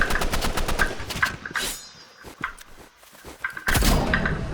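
Rapid bursts of automatic rifle fire in the Roblox game Rivals crack loudly in quick succession, pausing briefly before another dense volley erupts.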